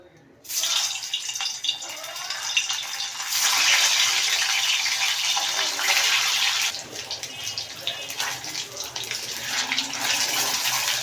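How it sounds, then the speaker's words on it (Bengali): Chicken balls dropped into hot oil set off a sudden loud, steady sizzle that stays close and unbroken for several seconds. "তেলটা গরম হয়ে গেছে, এখন আমি বলগুলো দিয়ে দিব।"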